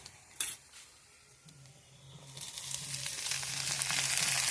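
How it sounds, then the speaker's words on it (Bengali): Onions sizzle as they fry in a pan at an outdoor picnic cookout, with a brief clatter early on and then a loud, steady hiss that swells and holds, over a low intermittent hum. "হ্যাঁ, এবারটা ভাজা হবে।"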